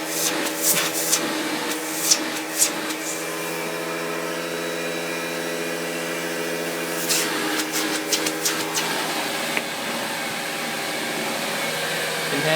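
An early-1980s Electrolux 502S vacuum cleaner runs steadily during a suction demonstration, a loud, continuous motor drone with a few faint clicks and taps early on.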